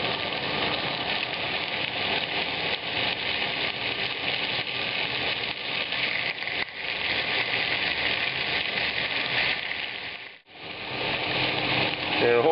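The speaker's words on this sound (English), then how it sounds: "I'm going to begin frying the pork in the sesame oil." Pork fries in sesame oil in a very hot pan on high heat, giving a dense continuous sizzle that stays loud and close throughout, with one brief dip.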